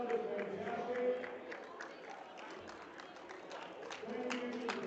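Crowd applause and cheering in an arena at a weightlifting competition, a moderate, even wash of clapping and voices heard from a distance throughout.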